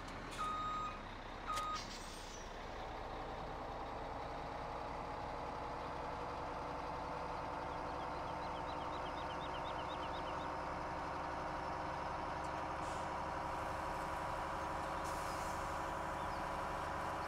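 Reversing beeps from a truck in Farming Simulator 17 repeat steadily over a continuous idling diesel engine hum, with a brief air-brake hiss near the start and no talk.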